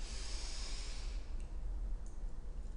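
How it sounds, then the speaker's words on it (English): A single deep inhale during a chair workout: a steady, close, breathy rush of air for about a second, then fading into quiet room noise. "Breathe it in."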